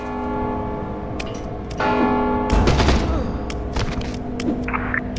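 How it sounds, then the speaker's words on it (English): A bell tolls in the stealth video game Mark of the Ninja, its sustained ringing tones humming over a low ambient drone, with a heavy thud partway through and scattered clicks, loud and fairly close. "Don't you hear the bell?"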